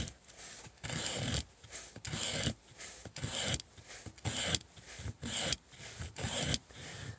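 A knife scrapes along a wooden stick in repeated firm, rasping strokes, shaving curls to form a fuzzy feather stick; about ten close strokes come in a steady rhythm with short pauses between.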